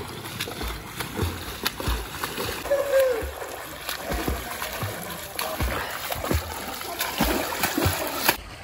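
People swim in a resort pool, with scattered splashes and sloshing water heard nearby over a steady outdoor ambience.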